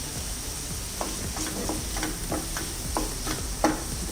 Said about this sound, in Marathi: ही पण व्यवस्थित जरा परतून घ्यायची तेलामध्ये.